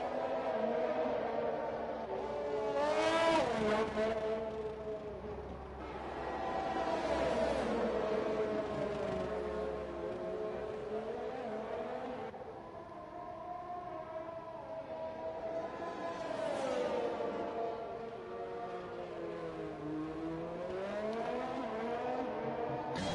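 Race cars in the F1 2021 game on the Azerbaijan street circuit under safety car conditions, engines rising and falling in long whining sweeps as cars pass, loud and continuous with no talk.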